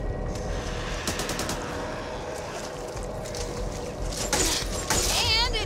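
Rapid automatic gunfire in the co-op zombie shooter Back 4 Blood, continuous loud bursts layered with game noise and people talking over the shooting.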